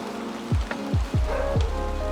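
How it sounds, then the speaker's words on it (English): Pouring rain makes a steady broadband wash, broken by several heavy, dull drip thuds at irregular intervals. No talking. "now it's the pouring rain"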